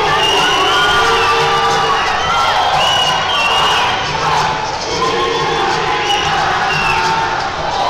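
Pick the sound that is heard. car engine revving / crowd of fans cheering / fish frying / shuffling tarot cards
crowd of fans cheering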